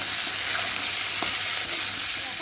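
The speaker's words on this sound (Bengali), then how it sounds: "আর দেবো হলুদ আর দেবো নুন দিয়ে ভালো করে মশলাটা দিয়ে কষিয়ে নেব" Spices with turmeric and salt are stir-fried in a hot pan for a Malabar spinach chochchori, making a loud, continuous close sizzle with faint stirring scrapes and no talk.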